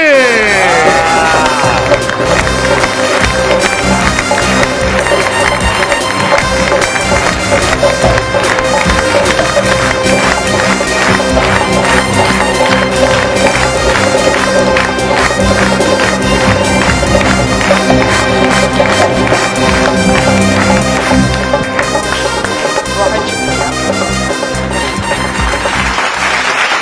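Studio audience at a comedy talk show bursts into loud, sustained applause and cheering as actress Hina Dilpazeer walks on stage, clapping dense and continuous throughout with music playing underneath.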